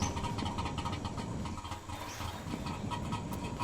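A car engine idles and drones steadily in the driving game The Long Drive, a low rumbling hum with rattly mechanical clatter layered on top, continuous and fairly close with no talking.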